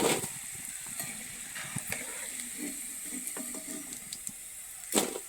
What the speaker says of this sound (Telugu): నూనెలో బాగా ఫ్రై చేసాను. ఇప్పుడు మళ్ళీ రెండోసారి వేస్తున్నా.